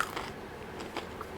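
Close, crisp crunching bites into crunchy air-fried frozen French fries, a few quick brittle snaps in a quiet room.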